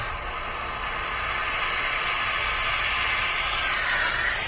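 A gas torch flame roars steadily while heating gold to its melting point, producing a continuous loud hiss that holds without pause from start to finish.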